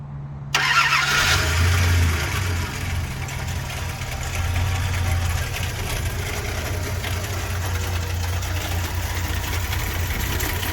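A 1993 Dodge Ram D150 pickup's V6 engine cranks and catches, revs briefly, then drops into a steady idle with a low rumble, close by and with no talking.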